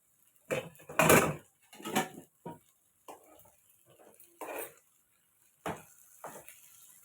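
Metal lid set onto a cooking pot of raw mango and tomato pickle on a stove, giving a few close clanks and scrapes among light kitchen handling, with no talk.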